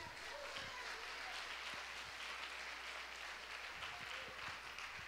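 A church congregation applauds in a steady, even wash of clapping that runs through the whole stretch at a fairly low, distant level.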